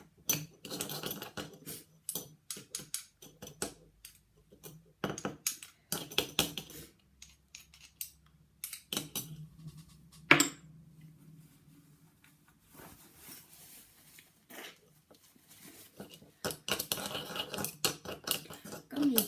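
A homemade face mask mixture is stirred in a bowl, giving irregular clinks and scrapes of a utensil against the container in short close bursts with brief pauses, with no talk.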